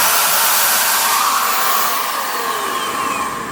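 A spray gun releases a strong, steady hiss of air under a soft trigger press, loud and close throughout, fading slightly toward the end.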